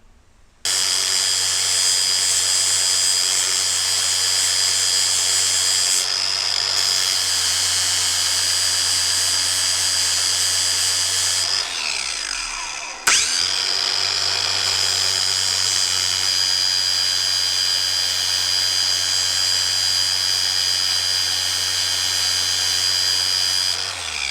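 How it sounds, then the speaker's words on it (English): A sanding disc linishing metal whines steadily, a continuous high grinding drone that briefly dips and spins back up midway. "put the sanding disc on and linish that down"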